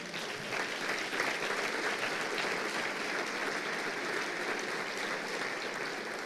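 A church congregation breaks into sustained applause during a sermon on ministerial investiture, a dense, even wash of many hands clapping that continues steadily at moderate volume throughout.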